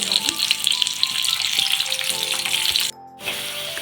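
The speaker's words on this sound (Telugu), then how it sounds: "ఆయిల్ హీట్ అయిన తర్వాత ఇందులోకి కట్ చేసి పెట్టుకున్నటువంటి ఉల్లిపాయ ముక్కలు, తర్వాత కరివేపాకు వేసుకొని 1 నిమిషం పాటు ఫ్రై చేసుకుందాము." Sliced onions and curry leaves frying in hot oil give a loud, steady close-up sizzle with some stirring, briefly cutting out for a moment near the end before resuming.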